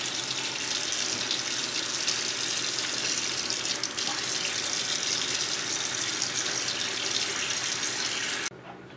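Running water pours steadily into a sink as hands are dipped and moved through it to dampen hair, a continuous close splashing hiss that cuts off near the end.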